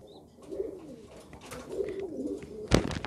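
Silver-tail pigeons in a loft coo softly in low, rolling phrases that swell and fade, with a brief sharp rustle near the end, all at moderate distance.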